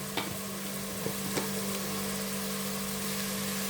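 Spices and biryani powder sizzle steadily in a pan with a constant hiss, and a few faint taps of a spoon come through in the first second and a half.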